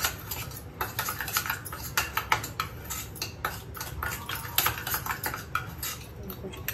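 A spoon mixes Parachute coconut oil into a coffee scrub in a small bowl, giving quick irregular clinks and scrapes close up, a busy rhythmic tapping and stirring with no talk.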